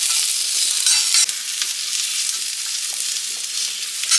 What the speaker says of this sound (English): going to town with these onions in this skillet